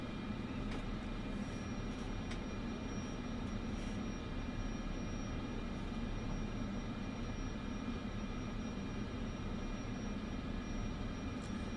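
Cessna Caravan turboprop taxiing in Microsoft Flight Simulator 2024, a steady, droning engine hum with a faint high whine, constant and unbroken throughout, with no talking over it.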